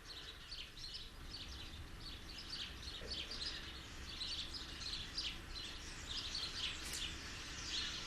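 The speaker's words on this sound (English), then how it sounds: "Birds." Birds chirping in a radio drama scene, a busy chorus of quick high tweets scattered throughout, soft and steady with no talk.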